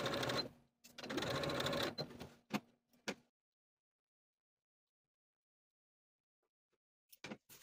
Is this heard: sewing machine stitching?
yes